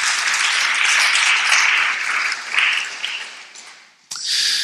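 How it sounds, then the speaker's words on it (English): A crowd at an evening debate on caste legislation applauds Dr. Shah, a dense, loud wash of clapping that holds steady, dips near the end, then swells again. "Please round of applause for Dr. Shah."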